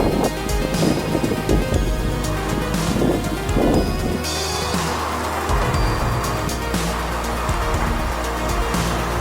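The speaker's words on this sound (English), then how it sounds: "It's trying to rain on us" Rain falls steadily at a mountain lake in the High Uintas, heard as a continuous loud hiss and patter close to the microphone, with deep rumbling underneath.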